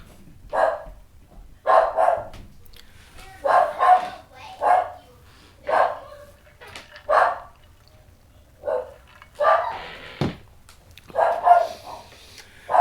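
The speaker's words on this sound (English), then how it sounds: "Pardon the dog upstairs." A dog barks repeatedly from an upstairs room, in irregular bursts of single and doubled woofs spread across the stretch, moderately loud and somewhat reverberant with no voices over it.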